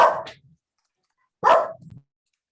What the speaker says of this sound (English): My dog wants to participate.